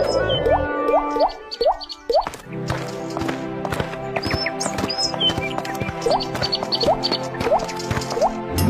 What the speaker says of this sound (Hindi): ये तो पानी की बूंदे हैं